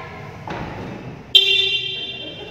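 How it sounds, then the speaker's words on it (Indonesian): A new Suzuki Jimny gives a single short, loud horn blast after some faint handling noise. The tone holds for about half a second, then fades. "Kita cobain klaksonnya ya guys."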